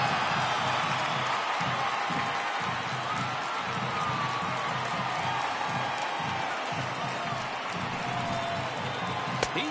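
A video game baseball crowd from an Athletics versus Astros matchup rises in a steady, distant roar of cheering during a full count, sustained and even throughout with faint commentary underneath.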